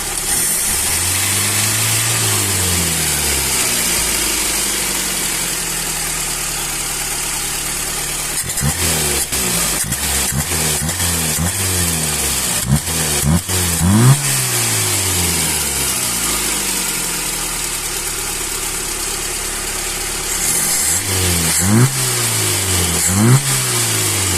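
A Mercedes-Benz W124 engine being adjusted on its Solex carburetor idles steadily close up, with its revs rising and falling in repeated short blips and longer sweeps.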